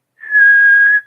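A single steady whistle by a person imitating a call heard at a bigfoot camp, one sustained clear tone of about a second, loud and close, with no talk.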